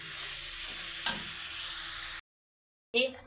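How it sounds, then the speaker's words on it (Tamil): Tomato and brinjal are sautéed in a pan, a soft frying hiss with a brief stir, then the sound cuts to silence before a short loud clatter returns near the end. "கத்திரிக்காயை போட்டு வதக்குங்க"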